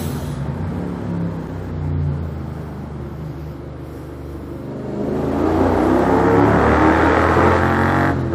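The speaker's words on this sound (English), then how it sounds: "Tunnel rev!" A Honda NC700 motorcycle fitted with a Blackwidow aftermarket exhaust revs inside a tunnel, a steady echoing engine drone that swells into a louder, fuller rev over the last few seconds, with no talk over it.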